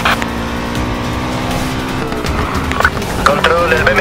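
A BMW M5 races in Need for Speed Payback with a steady engine drone that shifts pitch, then bumps, scrapes and a tire squeal near the end, under talking voices.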